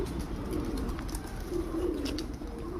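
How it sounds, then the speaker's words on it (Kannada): Pigeons and other birds at Allalasandra Lake Park in Yelahanka New Town, Bangalore, coo low and repeatedly over a steady outdoor background hum, fairly close, with no one talking. "ನೋಡಿ ಹೇಗೆಲ್ಲ ಫ್ರೀಯಾಗಿ ಪಕ್ಷಿಗಳು ಹೇಗೆ ಖುಷಿಯಿಂದ ಹರಡ್ತಿದ್ದಾವೆ"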